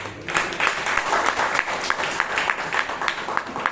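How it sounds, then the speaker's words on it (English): A roomful of people gives a round of applause at a Bangalore Toastmasters club meeting, with steady, close clapping and sharp individual claps standing out throughout. "I think Toastmaster Ujyant and our G deserves another big round of applause for their carrying the meeting."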